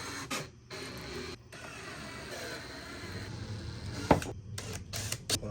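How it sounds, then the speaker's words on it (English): A drill with a countersink bit bores a tapered recess into a screw hole in wood, making a steady mechanical whir broken by brief pauses, with a sharp scrape near the end, close and alone. "I'm going to countersink the hole so my screw heads don't show."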